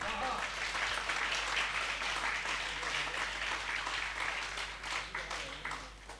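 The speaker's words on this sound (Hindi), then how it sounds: "और तालियां ऐसे बजाओ कि कवियों को जोश आ जाए" Audience at a Hindi poetry recital applauding, a sustained wash of clapping with a low hum underneath, tapering slightly toward the end.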